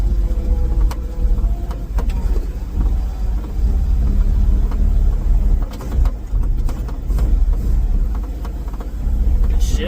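A Ford F350 dump truck's engine rumbles low and steady from inside the cab on a test drive, with scattered clicks and knocks over the drone and no talking.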